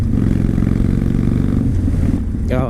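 A 2012 Victory Highball 106 cruiser motorcycle rumbles steadily at riding speed, a loud continuous low engine drone with wind noise, close and constant throughout.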